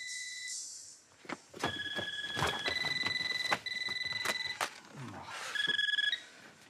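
A home telephone rings in repeated electronic trills amid indoor clatter and movement, fairly close and loud.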